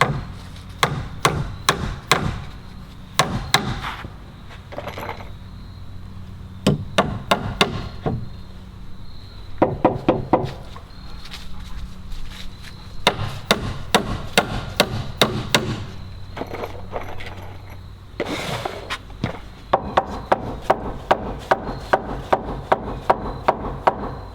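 A hammer drives nails to tack a pressure-treated wooden deck stair tread in place: bursts of sharp, ringing blows in quick runs separated by pauses, close and loud, no talking.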